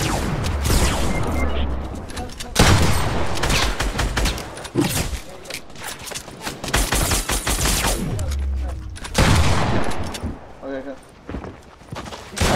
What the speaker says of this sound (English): I swear I shot him in the face.